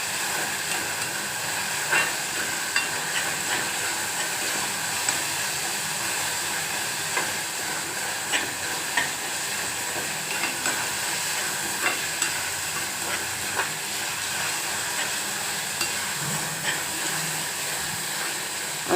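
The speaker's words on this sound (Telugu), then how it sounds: "అందరూ ఫ్రై చేసుకుంటున్నారా?" Food fries in a pan with a soft, continuous hiss and occasional faint ticks of stirring, at an even level with no talking.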